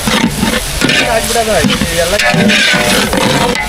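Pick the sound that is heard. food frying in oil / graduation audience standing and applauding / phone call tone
food frying in oil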